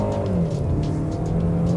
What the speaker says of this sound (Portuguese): Imagens do carro trafegando em curvas e leves aclives.